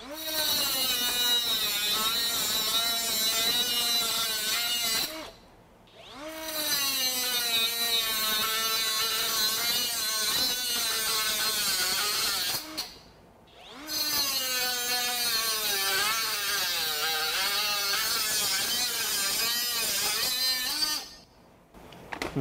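A Ryobi HP 3-inch cordless cut-off saw grinds through flat bar steel in three long, loud, screeching cuts, its pitch wavering as it bogs under load, with short pauses between cuts.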